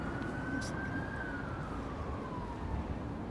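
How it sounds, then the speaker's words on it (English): Old fire engine siren at Heathrow Airport, a steady wailing tone slowly rising and falling over heavy wind and traffic rumble, moderately distant. "Oh, the old fire engine."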